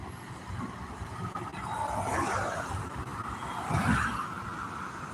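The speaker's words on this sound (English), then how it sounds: "We're watching that there train go by." A train rolls past at a moderate distance as a low, steady rumble that swells twice. No one speaks over it.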